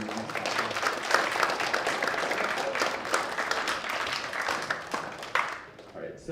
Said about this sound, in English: can we get a round of applause for the judges for coming in on the weekend